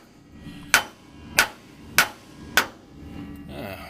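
A hammer strikes the trailing arm bolt of a 1965 Chevy during installation of CPP tubular trailing arms: four sharp, loud metallic blows, close and evenly spaced, with no talking.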